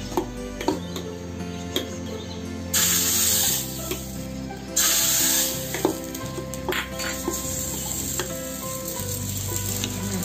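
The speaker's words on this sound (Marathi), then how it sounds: "फोडणी अगदी छान झाली आहे" Tempering sizzles in a mung bean chutney made to go with dosa, with loud hissing bursts that swell and fade over the clip, plus scattered spoon and pan clinks close by.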